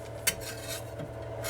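A metal spatula scrapes and clinks against a hot 3D printer bed, prying freshly printed ABS parts loose, with a sharp tap followed by soft scraping rubs close by.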